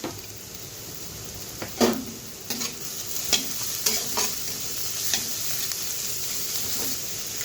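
Garlic, ginger and green chilli frying in a pan, a steady close sizzle broken by several sharp scraping strokes of a spatula, with no talking.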